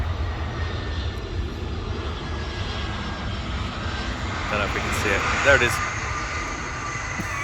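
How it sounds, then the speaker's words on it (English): Aircraft engine roar from planes landing, heard from an airport long-stay car park: a loud, steady broadband rumble filling the whole stretch, swelling slightly near the end, with a person talking briefly over it. "Planes are landing, so it's quite loud"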